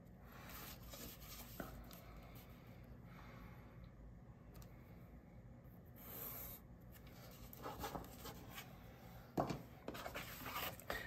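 Pencil or marker drawing lines along a small square on a template for optics barriers, a steady scratchy rubbing in short strokes, close and fairly quiet, with no talking.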